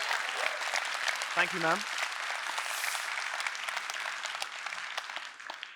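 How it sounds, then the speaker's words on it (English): Audience applause at the 5th ZAM Nelson Mandela Lecture, a continuous wash of clapping from a large hall crowd lasting nearly the whole stretch, with a brief spoken thanks heard over it. "Round of applause, please."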